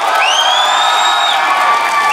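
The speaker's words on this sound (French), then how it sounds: "encore par applaudissement et par cri strident" Audience at a live comedy show in Brossard claps and cheers, with shrill whistles and high whoops riding over dense, loud crowd noise throughout.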